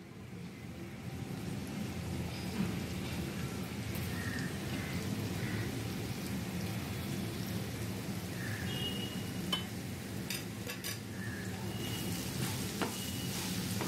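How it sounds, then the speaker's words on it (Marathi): Spinach added to a hot pan and frying for Maharashtrian-style spinach thecha gives a steady, close sizzle throughout, with a few light clinks near the end and no voices. "आणि आता हा पालक घालतेय."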